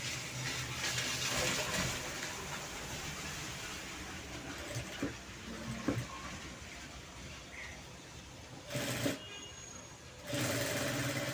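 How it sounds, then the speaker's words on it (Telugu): Sewing machine stitching cloth for a baby frock, a steady close mechanical whir running through the clip with a few short pauses and restarts near the end. "ఇప్పుడు చివరికి ఒక కుట్ట అనేది వేసేయండి."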